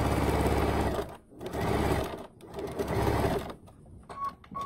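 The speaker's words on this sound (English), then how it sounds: "I'm gonna use the top piece of fabric as my guide for my seam" A sewing machine runs in three steady bursts, stitching a seam on a fabric crumb quilt, with a close, even mechanical whir and short pauses between runs.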